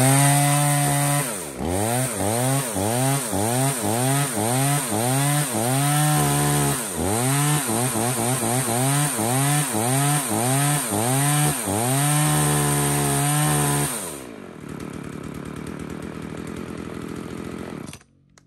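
A used Japanese 34cc chainsaw with a chain brake revs repeatedly in loud rising-and-falling bursts, then settles to a steady idle near the end.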